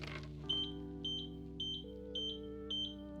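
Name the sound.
mobility scooter error code beeps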